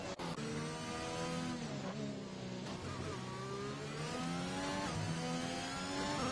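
F1 car engine in F1 2021 at Singapore, a steady high-pitched whine with climbing and dropping gear-change pitch sweeps, close and continuous throughout.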